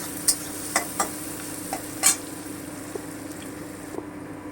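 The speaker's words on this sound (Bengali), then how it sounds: "আমি হালকা ব্রাউন করে ভেজে নেব আমি আঁচটা কমিয়ে রেখেছি" Chopped onion fries slowly on low heat toward light brown, giving a faint, even sizzle under a steady hum, punctuated by a handful of light ladle taps and scrapes against the pot.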